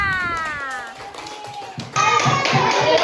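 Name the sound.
classroom of children clapping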